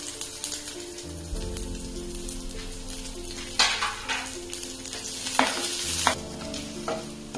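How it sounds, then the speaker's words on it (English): Chopped green chili and ginger frying with mustard seeds and cumin in hot oil, a steady sizzle with several sharp stirring scrapes and bursts, close and continuous. "Now I am adding chopped green chili and chopped ginger."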